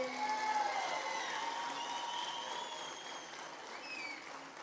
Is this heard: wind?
no